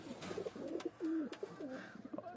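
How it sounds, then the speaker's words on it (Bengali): Several pigeons perched on straw coo in soft, repeated throaty phrases, close and fairly quiet, with no voices over them. "দেখো পায়রা কতগুলো কত পায়রা"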